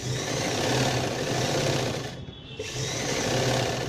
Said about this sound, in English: You can stitch it with any sewing machine.